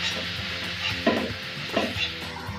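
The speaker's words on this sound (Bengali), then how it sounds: "এখন ভালোভাবে নেড়ে মশলাটাকে কষিয়ে নিব।" Masala spices with garam masala powder and black pepper being stirred and fried in a pan for a country chicken curry, a steady close sizzle broken by a few scraping stirs, no voices.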